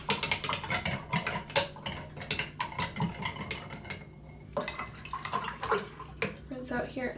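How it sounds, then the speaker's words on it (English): A paintbrush being rinsed in a water cup, with intermittent clinks, taps and splashy swishes against the container, close and fairly quiet, with a voice speaking briefly between the sounds. "I'm going to rinse out."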